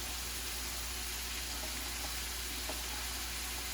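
Freshly cut Brussels sprouts go into a hot pan and sizzle in a dense, even hiss that holds steady throughout, with faint crackles and pops scattered over it; no talking.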